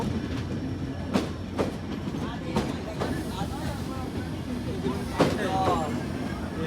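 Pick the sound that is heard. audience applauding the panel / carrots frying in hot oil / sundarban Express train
sundarban Express train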